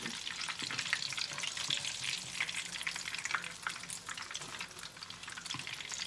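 Battered Swedish fish deep-frying in hot oil, a dense, steady crackle and sizzle that holds evenly close-up throughout, with no voices.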